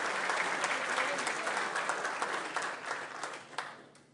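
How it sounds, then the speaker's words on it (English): Applause at a business appreciation luncheon: a dense, steady round of clapping from a room of guests, tapering off toward the end. "Another round of applause."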